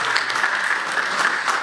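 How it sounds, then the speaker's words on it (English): An audience gives a steady, warm round of applause at a live session on smoking cessation, with a dense, even clatter of clapping hands throughout and no break. "Warm round of applause to him."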